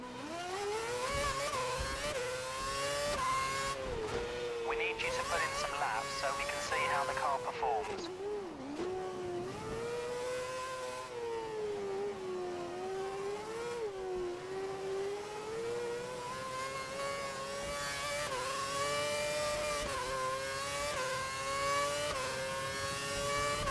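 Formula One car engine from F1 2011 on an out lap around the China circuit, a steady high whine rising and falling through gear changes, loud and continuous throughout.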